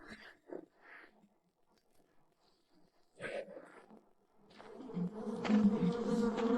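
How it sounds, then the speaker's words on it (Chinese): A few short rustles and faint sounds, then a dense buzzing of a large bee swarm on a mountainside swells up and grows loud toward the end. "蜜蜂真的散开了"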